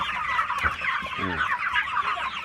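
Broiler chickens eating corn give a steady, close chorus of clucking and soft chirping, with a few louder individual clucks standing out from the flock.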